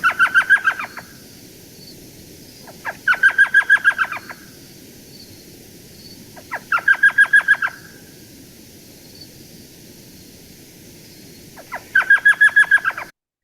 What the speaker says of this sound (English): let's just go ahead and listen to the iconic male elf owl call